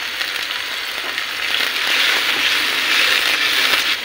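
Dried fish bhorta ingredients fry in a pan with a steady, loud, close sizzle that swells slightly midway, with faint scraping underneath and no talking.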